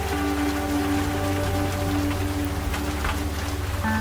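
Steady rain pours down at night on a road in Sumedang, a dense continuous hiss that runs alone and loud from start to finish, with faint tonal hums underneath.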